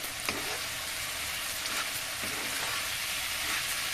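Ground coconut garam masala being stirred into a simmering egg curry, a steady close sizzle and bubbling hiss with faint scraping of a spoon in the pan.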